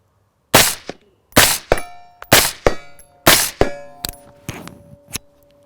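Shots from a rifle fitted with a large Hyperion suppressor, the supersonic bullet cracking as it leaves. About five sharp, loud reports come in quick succession, each followed by a brief metallic ringing.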